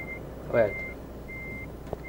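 A truck reverses with steady, regularly spaced electronic reversing beeps, a short voice breaking in once over the beeping.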